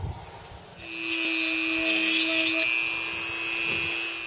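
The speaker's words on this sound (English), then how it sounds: "we're going to drill a small hole at an angle right above" A drill boring a small angled hole just above a pipe cap, running as a steady high whine that starts after a short quiet lead-in and holds close and loud to the end.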